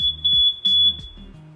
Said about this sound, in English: Alarm 3 detected smoke.